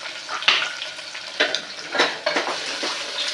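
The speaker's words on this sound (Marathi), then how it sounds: "नंतर बारीक चिरून ठेवलेला कांदा पण घालायचा। मिरची पण टाकून द्यायची त्याच्यासोबत।" Finely chopped onion and green chilli hit hot oil for a one-pot vegetable pulao, sizzling steadily while a spoon stirs them, with several distinct scraping bursts close by and no speech.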